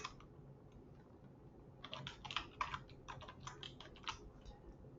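Quick bursts of typing on a computer keyboard, soft close key clicks in an irregular run of around two seconds after a quiet pause, low in level with no speech.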